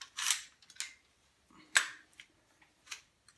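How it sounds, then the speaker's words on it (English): A Hatsan Optima shotgun's bolt is released and eased forward by hand, producing a few sharp metallic clicks and light sliding ticks, close and quiet. "depress the bolt release, and just let her go nice and easy."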